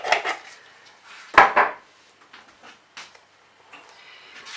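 A utensil stirs dry ingredients for a vegan lemon cake in a bowl, making intermittent scraping and knocking clatters, two louder at the start and a few softer ones after.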